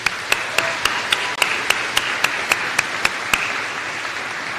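Applause at a graduate recognition ceremony honoring international environmental policy students: a broad, even patter of many people clapping, moderately loud, punctuated by a regular series of sharp, bright clicks at roughly one-third-second intervals.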